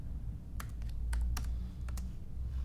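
Keys on a computer keyboard clack in short irregular bursts during editing work, close and crisp over a low background hum, with no one speaking.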